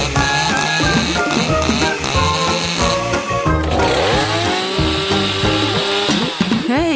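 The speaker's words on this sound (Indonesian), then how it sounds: "Halo, gergaji mesin." A chainsaw engine in a Minecraft-style crafting video game revs loudly and continuously over busy game music and effects, its pitch rising and falling as it cuts through a forest.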